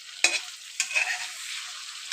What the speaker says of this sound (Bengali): আমার মাছের তেলটা ভাজা হয়ে গেছে, আমি এখন তুলে নেব